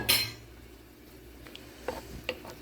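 Shrimp stirred into a Jamaican-style brown stew sauce in a pot, heard as a clatter at the start followed by a few light scrapes and clinks of a utensil against the pot over a quiet background.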